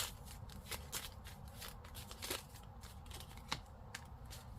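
Tarot cards being shuffled and drawn, soft quiet riffling and flicks of card stock close by, with a few sharper snaps.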